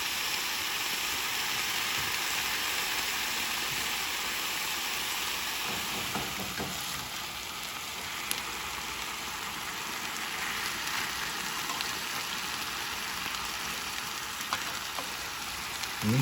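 Vegan sandwich steaks, also called minute steaks, browning in a frying pan give a steady, even sizzle throughout, with a few faint clicks and stirs.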